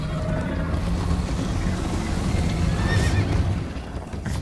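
In Minecraft Story Mode, a horse whinnies loudly over a continuous rumble of galloping hooves during a chase, with a dense, busy game soundtrack underneath.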